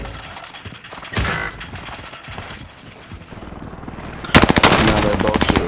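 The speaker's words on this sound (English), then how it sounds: "Now they're both shooting me" Rapid automatic gunfire in the Warzone battle royale game, including a loud, dense burst of repeated shots near the end over softer mechanical clatter and background game noise.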